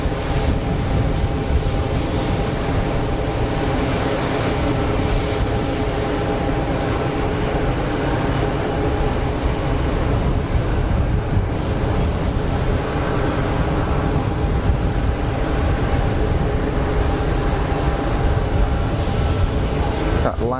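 An airplane landing at Geneva Airport gives a steady, even roar that holds level for about twenty seconds, heard from a distance with no voices.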